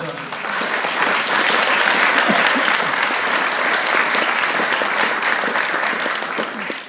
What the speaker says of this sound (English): So please join me in applauding Jonathan.